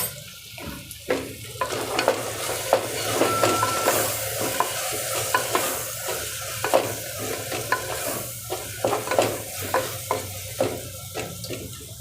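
Vegetables sizzle steadily in hot oil with chili and coriander paste and a pinch of red chili powder, while a utensil stirs and scrapes the pan in frequent clinks and taps.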